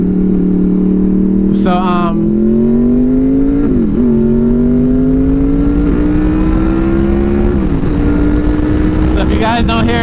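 A Honda VFR800 motorcycle accelerates hard onto a highway, its engine note climbing steadily through successive gear shifts, loud and close with heavy wind rush and a brief spoken word.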